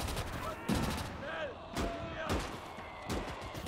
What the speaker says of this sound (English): Nice, grenade went off.